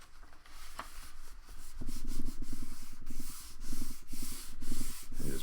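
Paper flap glued onto a journal page and rubbed down by hand, a close dry scratchy rhythm of quick strokes in repeated bursts, with no voice.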